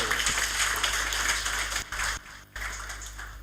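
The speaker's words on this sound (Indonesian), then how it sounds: "Tepuk tangan dulu." Crowd clapping at the opening session of a regional LDII congress in Denpasar, a moderate wash of claps from a seated audience with a couple of brief dropouts near the end.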